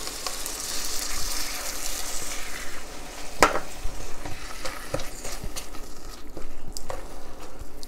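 Kimchi toasting in hot oil in a pot, where garlic and onion were softened first: a steady close sizzle with stirring scrapes and a few sharper clanks around the middle, with no talking.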